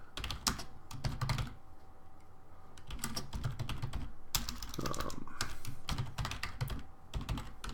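Bursts of rapid clicking keystrokes on a computer keyboard, broken by short pauses, with a steadier run of typing through the middle, close and clear.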